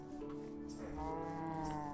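Sheep bleating in the video game Minecraft, a steady wavering cry held for about two seconds, fairly close and clear.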